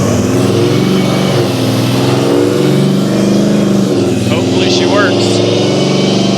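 Hellcat-swapped 1972 Dodge Demon with an added A1000 fuel pump, its engine roaring loud and close in a sustained rev that rises and falls, with a voice speaking briefly over it.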